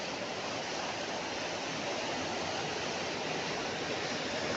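A full-flowing river rushing toward a waterfall below, just above the Veppara dam reservoir: steady, dense broadband roar of water, constant and fairly close, with no voices.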